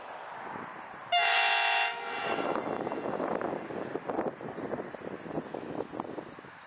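A Queensland freight train, the Mount Isa mixed mineral freight, passes with a loud sustained horn blast followed by a steady rumbling roar of locomotives and rolling wagons, close and continuous.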